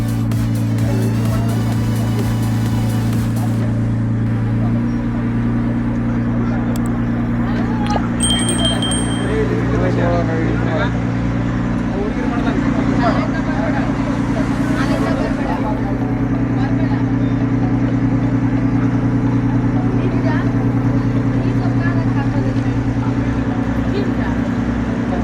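A boat's engine hums steadily as it pulls away from the shore near Tannirbhavi Beach, Mangalore, a low continuous drone with water and wind noise around it and crowd chatter in the background.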